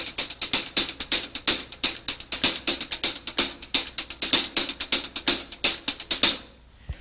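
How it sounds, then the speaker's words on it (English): A paradiddle snare solo pattern played on the hi-hat: rapid, crisp sticking with steady accents, loud and close, running continuously for about six seconds before stopping abruptly. "I'll play it on the hi-hat"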